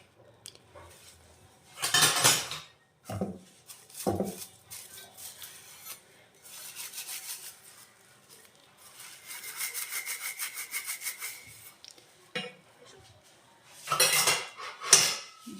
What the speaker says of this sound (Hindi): अगर घी वाली है तो इसे हम 2 बार गर्म पानी से धो लेंगे और इसको इसी यहाँ से हम इसे क्लीन कर लेंगे।